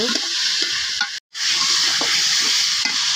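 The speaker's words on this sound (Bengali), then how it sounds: "এবার দিয়ে দিব নতুন আলু। আলুটাকে ভালোভাবে কষিয়ে নিব।" New potatoes sautéing in a pan of spice masala, a steady close sizzle and frying hiss with occasional stirring scrapes, broken by a brief silent gap partway through.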